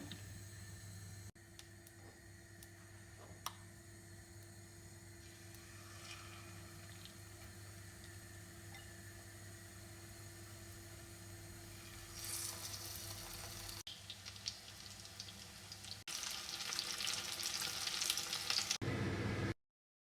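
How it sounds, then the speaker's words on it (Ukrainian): Faint sizzling and frying hiss of 50 grams of oil in a frying pan builds gradually over a low background hum, growing louder toward the end before cutting off. "На сковорідку 50 грам олії."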